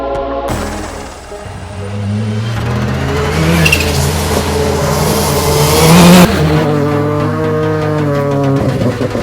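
A rally car drives on a track, its engine revving loud and close through rising and falling gear changes, with an acceleration surge midway and a faint tire squeal.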